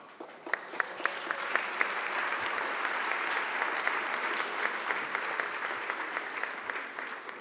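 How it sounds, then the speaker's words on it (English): Audience applause at the NAASR 70th anniversary gala: a dense, steady burst of many hands clapping that fills the room for several seconds, with a few sharper individual claps standing out near the start. "I'd say hold your applause, but don't hold your applause."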